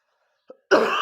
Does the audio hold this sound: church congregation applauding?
no